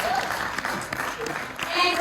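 An audience at a comic book panel for a graphic novel release claps in a steady, moderate round of applause, with talk and a few cheers mixed in throughout.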